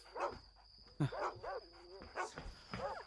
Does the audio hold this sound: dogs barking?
yes